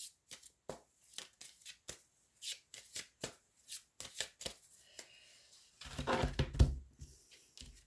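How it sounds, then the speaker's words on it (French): Tarot cards being shuffled and drawn at close range: a run of quick, crisp riffling bursts, then a denser, louder flurry of card handling near the end. No speech. "Alors je vais tirer 6 cartes pour commencer."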